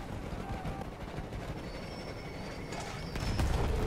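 A damaged train rumbles along in Battlefield 1, rails clattering and a faint metallic whine above, growing louder and rougher toward the end.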